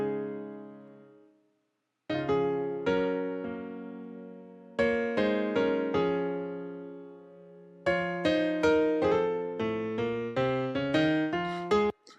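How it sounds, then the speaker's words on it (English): The Grand Echo piano plugin from Expand plays gospel-style chords and melodic notes. Each struck chord rings and decays, arriving in uneven phrases after a short pause near the start. "And now this piano is Grand Echo from Expand"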